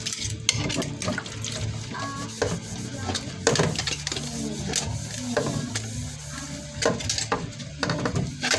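Used cooking utensils are washed under running water in a home kitchen while pork adobo cooks, with a steady splash of tap water, clinks and knocks of dishes and tools, close by and moderately loud.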